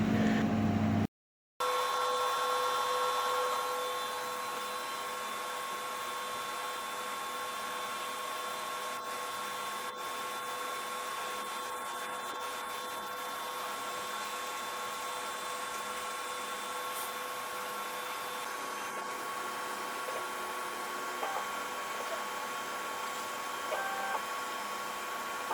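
A pizza vending machine heats a pizza with a steady, even mechanical hum and faint whir that runs unbroken for the whole stretch, with no talking.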